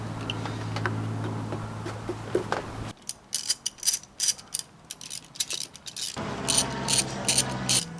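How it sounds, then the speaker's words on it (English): A ratchet removing 7mm bolts from the boost pipe on a Volvo engine, heard as quick, close bursts of clicking pawl ticks between brief pauses, loud and crisp. "There are 3 7mm bolts that hold down the boost pipe. So, I'm going to remove that."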